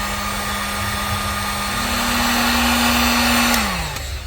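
A Harbor Freight heat gun blows steadily while shrinking heat-shrink tubing on a car wiring connector, a loud close whirring drone with a steady hum that rises slightly in pitch, then winds down near the end.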